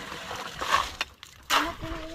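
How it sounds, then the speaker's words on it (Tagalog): Water splashes and sloshes as it is fetched in a container for mixing cement at a hollow-block house build, a few uneven close splashes with some background noise. "Ayan, nagigib ng tubig si Amy."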